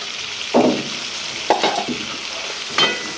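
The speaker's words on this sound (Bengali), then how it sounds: "আমি একটু সুন্দর করে পেস্টে ভাজা ভাজা করে লই" Onion, chili and garlic paste fry in a pan as a steady low sizzle, broken by three louder scraping bursts of stirring; close, with no talk.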